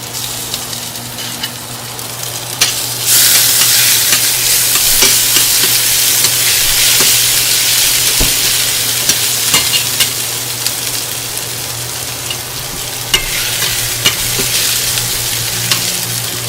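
Ginger garlic paste hits a hot pan of mustard oil while a pickle of carrot, cauliflower, turnip and chili is being made. A loud, steady sizzle bursts in after about three seconds and crackles on continuously, with no talk.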